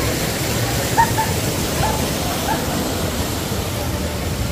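Steady broadband rushing of water fills the scene at Talon Falls in Calauan, Laguna, a continuous roar like a waterfall, with a few faint brief chirps over it.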